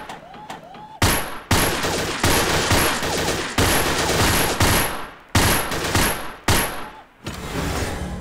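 Allied SMG 26-40 submachine gun fired in Gun Club VR: loud, repeated bursts of automatic fire separated by brief pauses, each burst dense and roaring.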